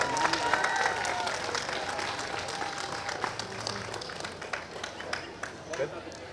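A crowd applauds and cheers after a pickleball championship match at the 2021 U.S. Open, with dense, steady clapping that gradually thins while a voice speaks over it.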